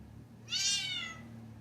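A pet cat named Rosie gives a single clear, rising-then-falling meow, close and fairly soft against a quiet indoor hum.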